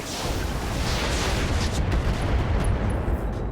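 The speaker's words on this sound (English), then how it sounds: "we're just going to drop a single Inferno Bomb on this Phoenix" In the video game RogueTech, an Inferno Bomb dropped on a Phoenix goes off as a loud, sustained roaring blast with deep rumble throughout.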